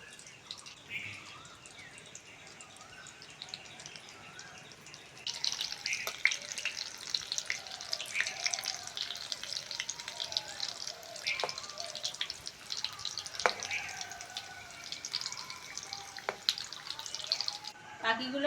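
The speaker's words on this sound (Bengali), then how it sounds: "খুবই হালকা আঁচে ভাজছি" Puffed rice and egg fritters sizzle in oil over very low heat, a soft steady crackle with scattered pops that grows louder partway through, with no talk over it.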